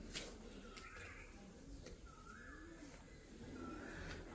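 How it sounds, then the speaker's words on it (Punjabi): A distant koel repeats a soft rising call three times over a hushed outdoor background, faint and far off. "ਕੋਇਲ ਦੀ ਆਵਾਜ਼"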